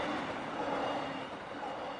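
A train rumbles steadily past at close range, a dense continuous roar of wheels and carriages with no voices.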